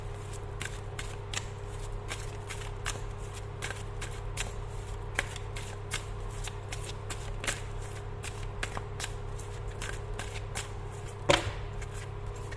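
Oracle cards are shuffled by hand in steady, rapid riffling bursts, close and fairly quiet over a low background hum, with a sharper card snap near the end.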